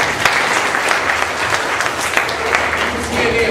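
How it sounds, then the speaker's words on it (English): An audience gives a sustained round of applause, dense clapping that holds steady and fairly loud throughout. "can we give him a round of applause?"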